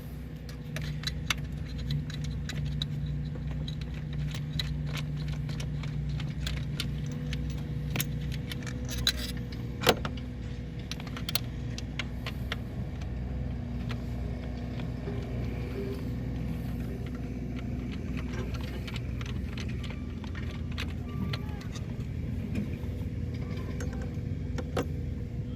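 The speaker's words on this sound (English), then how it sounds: "We'll just spin those 4 bolts out." Throttle body bolts being spun out with hand tools on a Ford Five Hundred produce scattered metallic clicks and ratchet ticks over a low steady hum, close and fairly quiet, with no talk.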